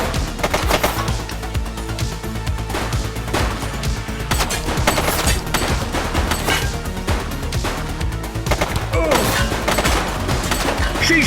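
Dense gunfire rattles through a shootout in The Precinct police game. Bursts of rapid shots and sharp cracks overlap almost continuously, loud and close, with scattered impacts and faint voices underneath.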